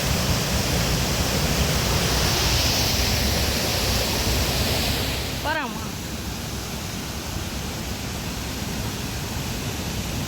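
Rushing water at the Hogenakkal falls, a loud steady roar of heavy summer flow, briefly interrupted by a short whoosh midway, with the constant broadband rush continuing throughout.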